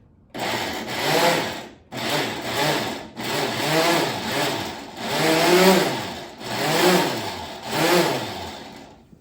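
Food processor or blender chopping ingredients finely in pulsed bursts, each burst a loud whirring roar of about a second and a half with brief pauses between, close by, no talking.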